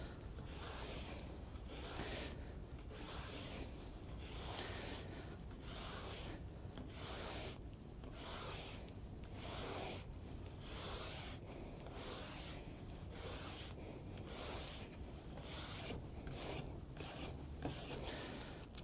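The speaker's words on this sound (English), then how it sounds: "we're going to brush the ski out from the tip to the tail" A medium brass brush is drawn along a ski base from tip to tail in repeated long strokes, an even, rhythmic scratchy rasp, faint and close, with no talk.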